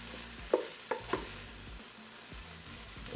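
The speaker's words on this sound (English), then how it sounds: "you can hear it searing and sauteing in there, sizzling up real nice." Steady sizzling of fried rice in a Ninja Speedi rapid cooker, with a few sharp clinks of a utensil stirring near the start.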